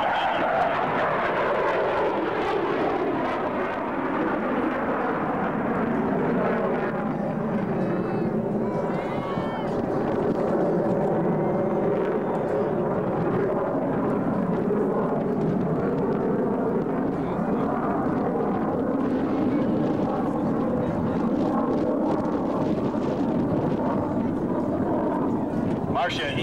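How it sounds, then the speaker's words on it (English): Boeing F/A-18 Super Hornet jet maneuvering tightly at an airshow: a loud, continuous engine roar that shifts in pitch as the aircraft turns, with wind buffeting and a public-address announcer talking over it. "The Super Hornet will now show his ability to turn on a dime."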